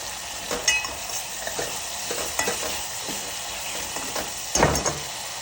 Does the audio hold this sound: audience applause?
no